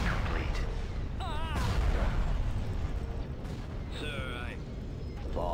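Gunfire and blasts in a Star Wars space battle video game, a dense continuous barrage of booming shots with chirping laser-like tones, close and loud under talking voices.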